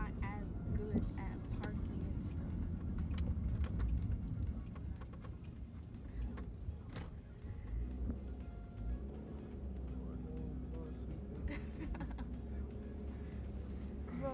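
Car cabin ambience on a road, a steady low engine and road rumble running throughout beneath people talking.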